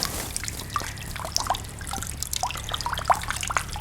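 Hydroponic nutrient water from a Dutch bucket tomato system trickles and drips into a collection container, a close, steady stream broken by scattered splashy drops.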